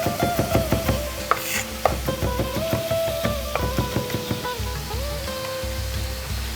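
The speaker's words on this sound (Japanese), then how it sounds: "ニンニクを潰し刻んでいきましょう。" A knife chopping crushed garlic on a cutting board for Mexican tacos, quick rhythmic taps in bursts with short pauses, close and moderately loud against a steady background hum.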